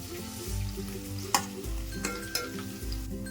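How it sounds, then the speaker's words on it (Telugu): Paneer pieces frying in hot oil with a steady close sizzle, a few sharp clicks and bumps from the pan or spatula, and low rumbling swells underneath, no voices. "పన్నీర్ ముక్కల్ని మనం ఈ నూనెలోనే వేసుకోవాలి వేసుకొని ఒకసారి ఇలా వేయించుకుందాం"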